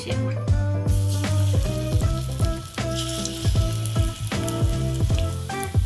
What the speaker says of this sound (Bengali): এই যে কড়াইতে আমি তেল দিয়ে দিয়েছি, এবার আমি বড়াগুলো এবার ভেজে নেব।